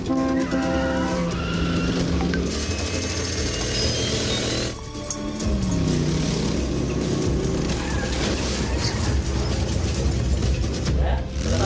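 A modified race car speeds and skids in a film, with a loud sustained engine roar and squealing tires, a brief dip midway, then more racing noise and screeching.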